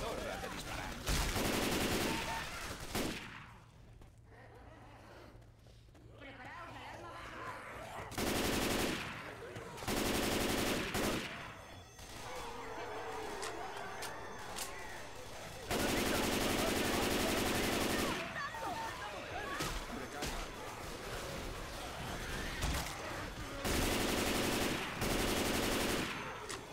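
Rapid automatic gunfire from the video game Left 4 Dead 2 rattles in repeated loud bursts with short pauses between, and a voice speaks in places.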